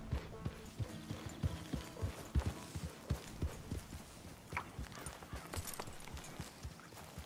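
A horse's hooves clip-clop at a steady walking pace in the Western video game Red Dead Redemption II, giving close, distinct hoofbeats with faint background ambience and no speech.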